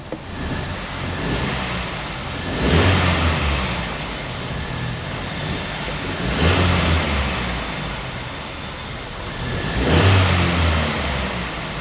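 Kia Ceed GT-Line petrol engine, recovered from flood damage, revving up three times in broad swells with steady idle between, close and loud with no talking.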